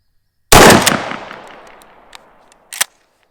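A 14.5-inch Vang Comp short-barrel shotgun fires a 7.5 Federal birdshot load outdoors: one loud, sharp blast with a long fading echo, followed by a couple of faint distant pops and a second brief crack near the end.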